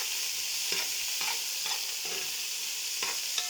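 Chopped onions fry and begin to brown in a pan of oil with a steady close sizzle. A spoon scrapes through them in a few regular strokes, and no one speaks.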